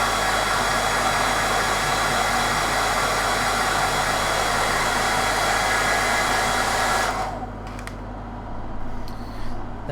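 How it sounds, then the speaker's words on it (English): A hairdryer blasts steadily and loudly over freshly painted miniatures, a constant rushing roar for about seven seconds before it cuts off, leaving quiet room tone. "Just blast this with a hairdryer."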